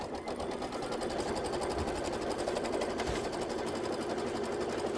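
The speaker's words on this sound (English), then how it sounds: "we'll let it stitch out the template" An embroidery sewing machine stitches out a template in a continuous, fast, even mechanical whir and tapping, close and steady throughout with no voices.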